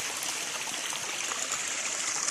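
A river flowing through a forested area, a steady close rush and trickle of water that is continuous and even throughout the short stretch, with no voices.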